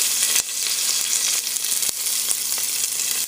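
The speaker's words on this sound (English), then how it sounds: "I'm going to go ahead and add my curry leaves in there" Curry leaves sizzle loudly in a hot pan of oil while cooking curried corn, a steady dense frying hiss punctuated by sharp pops and crackles.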